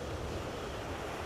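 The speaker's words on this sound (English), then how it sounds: "relaxed in a sense by the waves as they hit the shore" Ocean surf washing onto the shore at Sunset Beach in Port Antonio, Portland, a steady broadband roar of waves blended with wind buffeting the microphone, continuous and fairly close with no voices.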